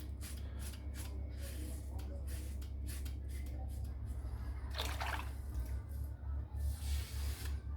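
Water runs over a Leaf Razor to rinse hair out during a head shave, a faint spraying and dripping over a low steady hum, with brief louder splashes partway through.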